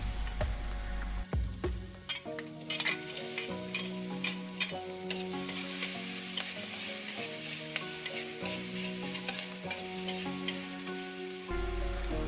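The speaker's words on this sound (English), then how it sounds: "Then add minced garlic and chili and fry until fragrance." Minced garlic and chili fry in butter in a pan, a steady close sizzle with stirring scrapes running throughout, tonal music playing underneath and no talking.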